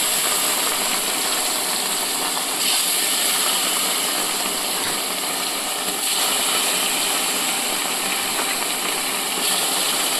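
Pieces of rohu fish fry in hot oil, making a loud, dense, unbroken hiss that stays level from start to finish, close up. No one talks.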